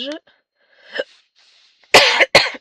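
A woman with hiccups lets out a short vocal catch, then a couple of harsh, close coughs in quick succession near the end, with faint breathy sounds in between.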